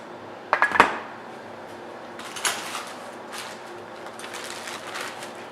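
A metric 5-piece S-type metal wrench set from Harbor Freight being handled, with a burst of close metallic clanks and clinks early on, then lighter rattling and scraping of the tools.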